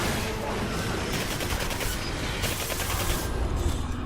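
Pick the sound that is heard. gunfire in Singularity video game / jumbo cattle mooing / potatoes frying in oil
gunfire in Singularity video game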